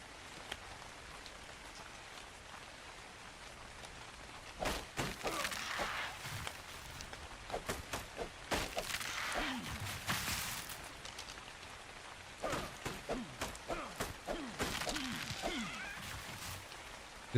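Rain falls in the video game Ark: Genesis as a constant pattering hiss, with louder bursts of heavier drops coming and going and no voices.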